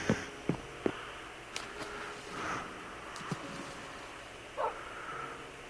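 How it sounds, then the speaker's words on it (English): Several dogs in a village-building video game bark in a handful of short, scattered yips and woofs, soft and moderately distant, with a faint whine near the end and quiet gaps between the barks. "I have 3 dogs in this village, if you hear them."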